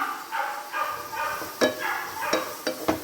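Onions, green chillies and curry leaves sauté in a pan with salt, a soft sizzle beneath several sharp scraping stirs of a spatula, close and fairly loud.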